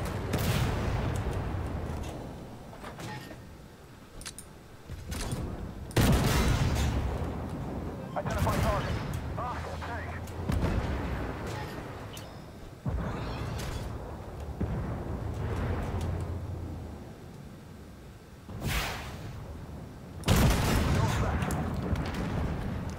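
Tank cannon fire in the Armored Warfare video game with a Leopard 2A4 Evo, heavy booming shots recurring every few seconds over a constant rumbling engine and battle bed, with someone talking between blasts.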